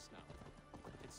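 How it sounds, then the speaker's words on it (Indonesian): A horse in Assassin's Creed Valhalla gives off rhythmic hoof clip-clops against a busy, loud game background with some voice murmuring mixed in. "Tiba-tiba ada kuda dong."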